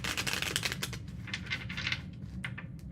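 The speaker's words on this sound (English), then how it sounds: "2 more shuffles" Tarot cards are shuffled by hand in quick riffling bursts, a crisp papery flutter repeating close up for a few seconds with no voices.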